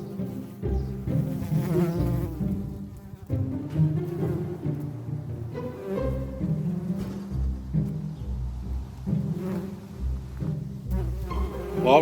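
Western Australian bees buzz in a steady, close drone, the hum wavering and pulsing as individual insects move nearer and farther.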